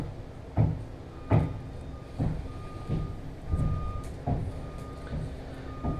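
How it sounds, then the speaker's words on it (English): Roof renovation work at an apartment complex carries on outdoors, with a vehicle's reversing beeps repeating at a steady pace and some background clatter from the site, fairly distant and moderately loud. "They're redoing the roof at the moment, so I apologize for that noise."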